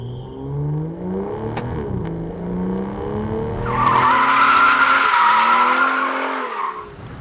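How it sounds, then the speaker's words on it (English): Aston Martin DB9's large carbon ceramic brakes squealing hard during a 60-0 mph stop, a loud sustained high screech lasting about three seconds over the engine's fading rumble. "All that squealing you heard was the big carbon ceramic brakes hauling this sucker to a stop in 100 feet."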